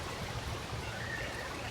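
Water from a water line on rural Ozarks land in Missouri runs in a steady, soft stream down into a creek and pond, a continuous low trickling wash heard at a distance with no talk.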